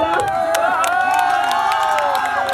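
A crowd at a rural village fair (mela) at night claps and cheers in a loud, sustained wash of noise, with voices and tonal music or singing mixed in.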